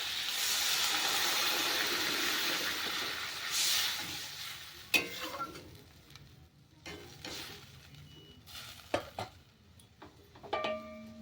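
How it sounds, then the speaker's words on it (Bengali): Water poured into a pan of fried green tomatoes with turmeric, for a mourala fish dish, sets off a loud rushing hiss of steam that dies away after a few seconds, leaving scattered spoon clinks and scrapes. "এবার আমি জল দিয়ে দেবো"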